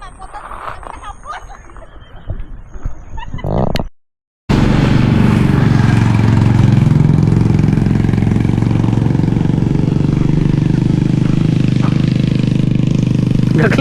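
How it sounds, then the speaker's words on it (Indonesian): A motorcycle is heard in thick fog beside a roadside stall near the Galunggung volcano crater, its loud, steady engine roar filling the air after a brief gap, with speech heard before it. "Gak kelihatan motor lewat"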